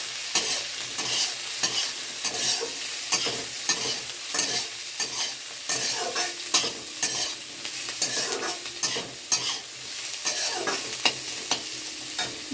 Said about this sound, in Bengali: এবারেই আমি পেঁয়াজ কুচি, রসুন কুচি আর কাঁচা লঙ্কাটাকে ভালো করে ভেজে নেব।